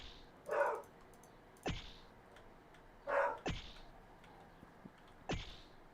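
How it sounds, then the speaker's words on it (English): Two separate barks from a dog sound faintly in a quiet room, a few seconds apart, mixed with sharp clicks like keyboard tapping. "That barking dog is mine"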